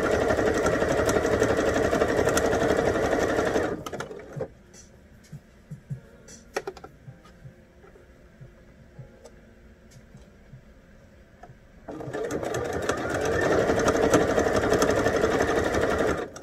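A sewing machine stitching a bell sleeve shirt, running in a loud, steady whirr for about four seconds, going quiet with faint handling sounds while the fabric is moved, then starting again for the final stretch.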